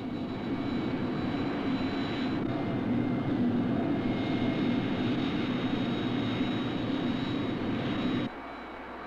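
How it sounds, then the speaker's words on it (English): A remotely piloted fixed-wing aircraft takes off, its engine giving a steady loud drone with a strong low hum and a faint high whine, holding even for most of the stretch before dropping off abruptly near the end. "Here's the takeoff as the remote pilot sees it."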